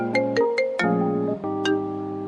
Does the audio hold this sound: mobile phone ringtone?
yes